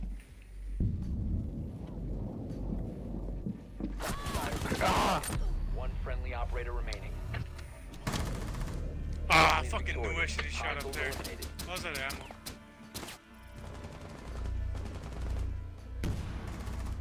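Gunfire in a Rainbow Six Siege match, sharp bursts of rapid shots and scattered single cracks rising over a low rumble, loud and close in places, with players talking throughout.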